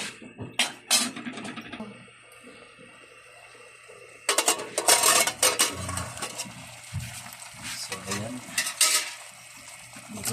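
Chicken pieces sautéed and stirred in a pot for sinigang na manok sa kalamansi: scraping spoon strokes and bursts of sizzling, with a quieter lull before louder frying and stirring resumes up close.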